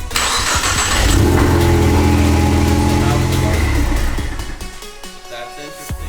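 A Ford Mustang EcoBoost engine cranks and catches, running loud and steady with a low droning rumble for about four seconds before the revs drop away to a lighter idle.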